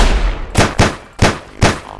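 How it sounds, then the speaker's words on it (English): Four loud gunshots in the video game Sir, You Are Being Hunted, fired close in two quick pairs, each a sharp crack with a short echoing tail over a low rumbling background. "I was shooting right at him."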